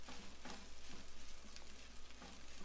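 Quiet, steady crackling sizzle of rice and egg frying in a pan for chicken fried rice, with faint scraping stirs, no talking.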